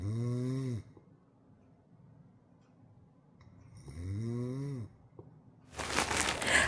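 An elderly person snores while asleep, with deep, rumbling, buzzing inhalations repeating in two slow, close and fairly loud bursts separated by quiet breathing, followed by a brief noisy rustle.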